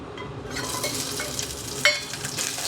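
Steady crackling sizzle of aromatics frying in hot oil, with scraping stirs and a sharp clink of a utensil against the pan midway.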